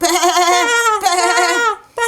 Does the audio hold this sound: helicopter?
no